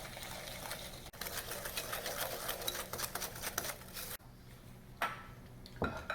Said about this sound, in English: I'm adding the sugar now and continue whisking.